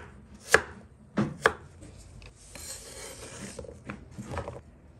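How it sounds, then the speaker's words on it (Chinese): A knife chops Chinese yam into small pieces on a cutting board, giving a few sharp, close knocks, two of them in quick succession, followed by softer scraping and rubbing. "再把山药改刀切成小块"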